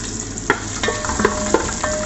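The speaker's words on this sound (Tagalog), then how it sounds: "gulid na natin yung bawang at sibuyas" Garlic and onion sautéing in a hot pan, a steady crackling sizzle with a few sharp scrapes and clinks of a utensil stirring, close and alone without any talk.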